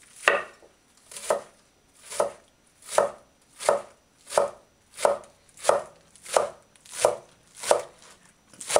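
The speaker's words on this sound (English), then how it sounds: "I'm going to start chopping the onions." Green onions being chopped with a knife on a cutting board, a steady series of about a dozen crisp, evenly spaced chops, close and clear with no talking.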